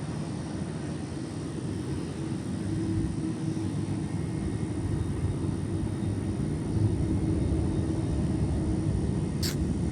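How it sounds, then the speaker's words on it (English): An Iberia airliner begins its takeoff roll on runway 8 at San Juan airport, a steady, broad engine roar that swells slightly as the aircraft starts moving. "It's Iberia 380. Now about to roll down."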